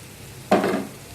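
Oil left from frying fish is poured onto cooking masala in a pan, bursting into a sudden loud hiss that holds briefly before easing off.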